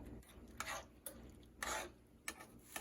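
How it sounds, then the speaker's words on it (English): Quiet frying hiss in a pan as the last water cooks off, broken by several scraping bursts of a utensil stirring, spaced irregularly. "You can hear when all the water is gone because it kind of sounds like it's sizzling"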